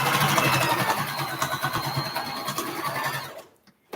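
A sewing machine backstitches a seam on a boxy bag with a loud, close, rapid mechanical whirr, briefly easing in pitch mid-run, then stopping abruptly near the end.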